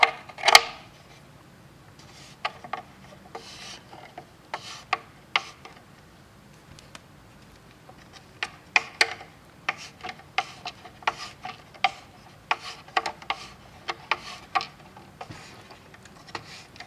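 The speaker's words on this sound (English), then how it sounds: "gotta love that grinding noise" Intermittent grinding and rasping from the shaft of a Feiyu gimbal during a yaw re-centering repair, coming as scattered clicks and scrapes that grow busier and denser in the second half, close and fairly quiet.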